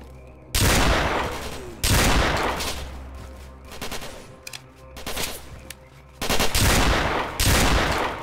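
Repeated bursts of automatic gunfire from firearms in the first-person shooter game STALKER: Call of Pripyat, loud and close, with several sustained volleys separated by quieter stretches of scattered shots and ambient game noise.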